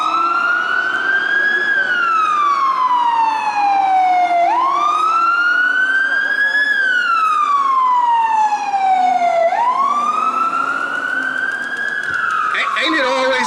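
An emergency vehicle siren, likely a fire engine on a Cincinnati street, wails loud and close, rising and falling in three long sweeping cycles before a rough mechanical burst at the end.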